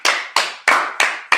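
A brotherhood class claps together at dismissal: five loud, crisp unison claps in an even, steady rhythm, close by with no talking.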